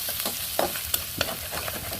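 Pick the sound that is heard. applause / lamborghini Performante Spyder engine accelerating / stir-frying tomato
stir-frying tomato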